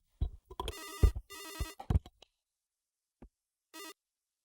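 A telephone rings on a radio call-in show, with several short bursts of ringing separated by clicks and silence, close and clear.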